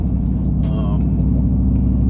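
Steady low engine rumble from a Whipple-supercharged 2021 Ford F-150 cruising at low speed, heard from inside with a continuous droning hum and faint ticking overhead.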